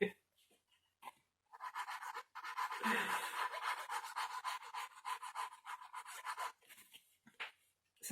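A person lets out a long, drawn-out yawn during a vintage suitcase crafting session, a breathy, airy exhale with a brief low voiced swell partway through, close and fairly quiet.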